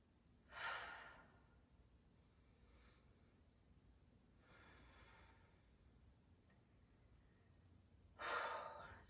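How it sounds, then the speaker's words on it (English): Deep breaths during a yoga session, two strong airy exhalations near the start and end with quieter breathing between, close and alone with no talk. "Let's take 3 more breaths."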